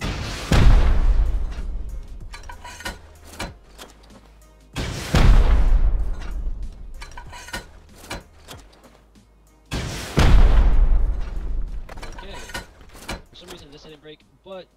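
Rockets exploding against a base during a raid in the Rust video game, three loud deep booms spaced a few seconds apart, each followed by a rumbling decay and debris clatter, with someone talking over them.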